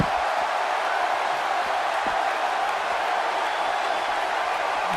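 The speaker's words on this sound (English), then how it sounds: "The crowd." A wrestling event crowd roaring in a steady, dense wash of cheering and noise that holds at a constant level throughout.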